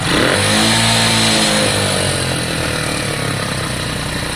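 A Lexmoto Valiant fuel-injected motorcycle engine revs hard and loud, the high revs hanging and slowly settling back toward idle.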